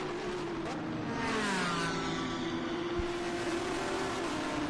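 A 2025 Porsche Cayman GT4 Clubsport races at VIR, its engine droning at a steady, high pitch as it passes. A brief thump sounds midway.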